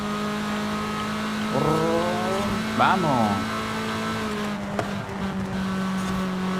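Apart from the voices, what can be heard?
car engine revving on downshift, Forza Horizon 5 video game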